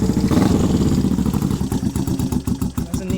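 A Honda CB360 motorcycle engine cranks and fires up with choke on, settling into a loud, close, rapid pulsing idle with mechanical clatter.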